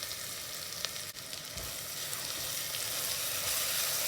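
Onions and tomatoes frying in ghee for prawn biryani, a steady hissing sizzle that swells slightly toward the end, with a couple of faint stirring clicks and no talking.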